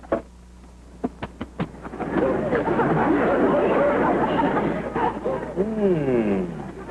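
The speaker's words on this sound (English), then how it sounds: "Hey, Kingfish, the storm coming up." A few sharp cracks, then a swelling rumble of thunder from a 1955 television sitcom rolls in under overlapping voices, with a gusty whoosh toward the end.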